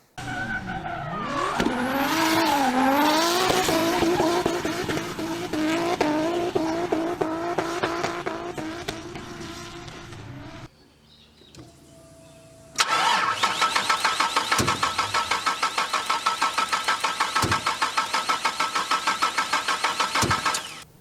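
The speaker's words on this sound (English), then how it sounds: "you heard that there was some backfiring and it obviously didn't start up" A car engine cranks and sputters for about ten seconds with a wavering, rising and falling whine, goes quiet briefly, then a second long crank with loud, sharp backfire pops at intervals as it fails to catch.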